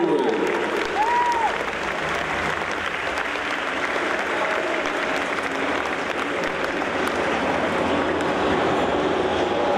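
Audience applause for a contestant at a costume contest, steady dense clapping from a crowd filling the whole stretch at moderate volume, with a brief voice briefly rising near the start.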